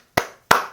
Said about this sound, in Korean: 박수를 안 쳐줄 수가 없는데